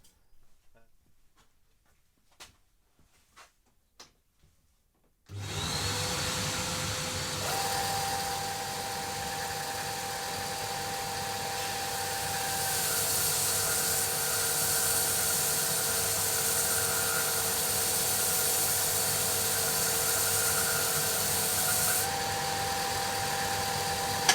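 A Ferrex belt and disc sander runs against a piece of rough sawn timber: a few faint taps, then the motor starts abruptly into a loud, steady hum with a gritty abrasive roar that shifts in pitch as the wood is pushed across the belt.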